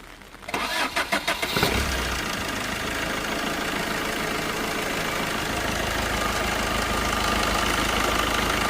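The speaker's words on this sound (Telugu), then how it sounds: "ఒకసారి ఇంజిన్ స్టార్ట్ చేస్తున్నాను సౌండ్ ఎలా ఉంది" A 2012 Tata Indica Vista diesel car engine cranks with several rapid turns, catches, then settles into a steady, close rumbling idle with no speech.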